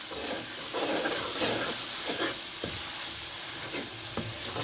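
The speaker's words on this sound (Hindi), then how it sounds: "अब इसको आपने थोड़ा सा जो है भूनना है मसाले को।" Spices, salt and chilli being fried in a pan for a potato and capsicum dish, a steady close sizzle with occasional stirring scrapes and no voices.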